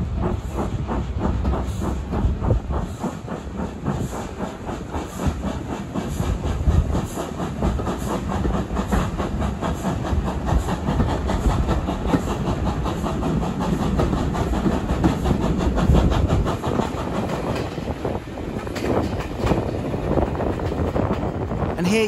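A heritage train rolls along the Great Central Railway past Swithland Sidings, a continuous near rumble with rhythmic clickety-clack from the wheels and a steady hiss running throughout, with a voice speaking over it at times.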